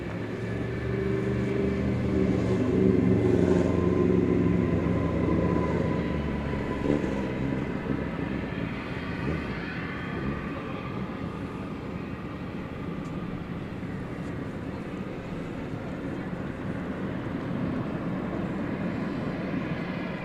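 An aircraft at DFW Airport, about to touch down at night. A loud jet roar swells in the first few seconds, then settles into a steady, more distant engine rumble and hiss.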